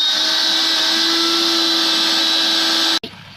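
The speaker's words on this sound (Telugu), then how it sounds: "జస్ట్ పీల్ కట్ చేసుకొని మిక్సీ జార్లో వేయాలి టేస్ట్ కోసం మనం షుగర్ వేయకముందే మిక్సీ పట్టాలి పీసెస్ని" A mixer grinder blends peeled mango pieces in its jar, a loud, steady motor whine holding constant for about three seconds before it abruptly switches off.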